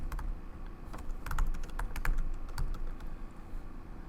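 Keys clatter on a Mac keyboard running macOS Monterey as a Command-Space shortcut opens Spotlight and a search phrase is typed, with quick, close, irregular clicks in a continuous run.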